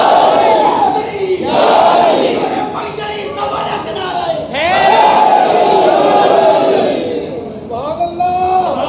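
A large crowd at a religious conference shouts slogans in unison, loud, massed voices rising in waves of chanting and cheering, with a leader's voice calling out between bursts.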